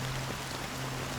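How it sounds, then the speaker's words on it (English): Rain falling in the video game Honkai Star Rail, a soft, even hiss of drops with a faint low hum beneath, quiet and unbroken for a brief moment. "How long has this rain been ongoing?"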